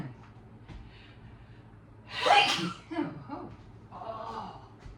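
A single sharp sneeze bursts out close to the microphone, followed by a snort and breathy sounds over a quiet background.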